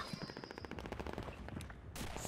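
Rapid automatic gunfire in the World War II shooter Red Orchestra, a fast rattling burst of close shots over a rumbling battle bed, broken by a brief pause before another crack.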